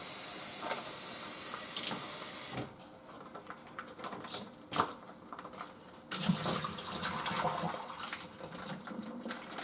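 Water poured from a tap into an opened bag of bacon that has cured for four days in the fridge, a steady rushing flow at the start, then a pause with scattered handling clatter before a second, softer stream of filling and sloshing.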